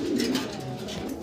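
Pigeons at a pigeon market give soft, low, rolling coos, several overlapping close by in a short burst.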